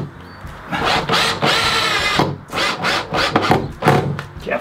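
A power drill drives a screw through wood while a Halloween electric chair prop is being built, its motor whirring steadily and loudly close by and surging in uneven pulses as the screw bites in.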